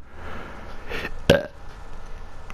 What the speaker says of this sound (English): You just made me burp, game.